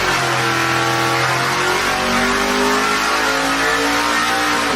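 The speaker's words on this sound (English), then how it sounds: "We're going to dyno Project Pontiac." A Pontiac engine revs hard on a dyno at Stinnett Racing in Emporia, Kansas, with a loud, continuous roar whose pitch climbs steadily through the run and no talking over it.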